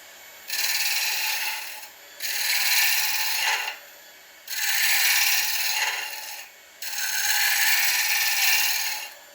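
A gouge cuts a wooden bowl on a lathe in four long, steady rasping passes, each lasting a couple of seconds, separated by short pauses, close and fairly loud with no talk.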